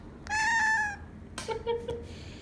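A cat meows twice in a quiet room, first a long, steady, clear cry, then a shorter, lower, wavering meow, both close and distinct over faint background hiss.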